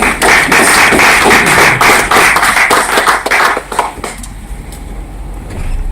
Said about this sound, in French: est-ce qu'on peut applaudir pour Francis?